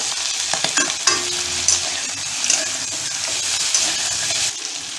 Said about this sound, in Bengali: আলু যতক্ষণ ভাজা হচ্ছে